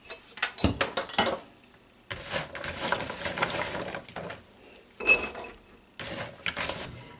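Fresh green beans are rewashed in water in a kitchen, with bursts of splashing and clinking of pots and utensils, close and intermittent with quieter gaps.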